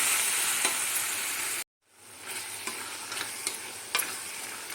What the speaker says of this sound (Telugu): అలా కలుపుకుంటూ వాటిని మెత్తబడే వరకు వేయించేసుకోవాలి.